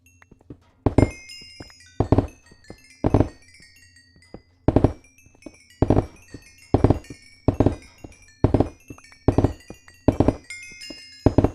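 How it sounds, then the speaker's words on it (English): Repeated sharp popping bursts with bright crackling sparkle in Minecraft (Vault Hunters), coming in a rhythmic series of about a dozen loud hits over a steady low hum, like a string of fireworks. "That deadass sounds like fireworks."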